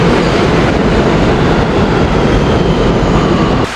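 A New York City subway train rumbles loudly and continuously from inside the car, a dense rolling roar with faint rail clatter that drops off abruptly near the end.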